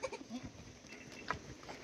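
Goats bleat in a rural village setting, several short calls near and fairly loud, one after another, with a faint rustle of background noise.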